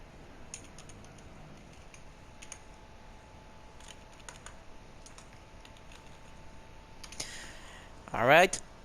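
Keyboard typing while writing a chat message after a Gran Turismo 7 Manufacturers Cup race, heard as faint, sparse clicks under a steady low hiss, ending in a short louder burst of rapid key clatter.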